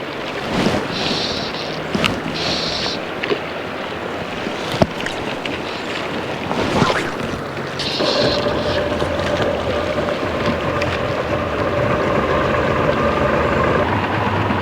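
A boat with a two-stroke outboard engine runs on a river, its steady drone blending with rushing water and wind buffeting the microphone, and the motor's pitch settles into a sustained tone partway through.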